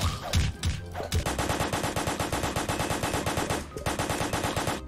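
A guard machine gun turret in a Roblox game fires long, loud, rapid bursts of evenly spaced shots, with a brief pause near the start and another near the end.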